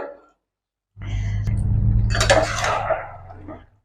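A lid comes off a pot of fish-oil vegetable chacchari that has been simmering covered for about ten minutes, giving a close metallic clatter and clink over a steady low stove rumble, with a hissing rush of steam.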